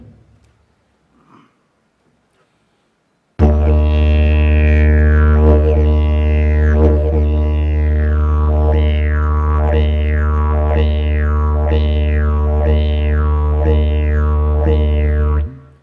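After a quiet start, a didgeridoo drones loudly with a repeating rising-and-falling whoop, a bouncing rhythm imitating a kangaroo hopping along.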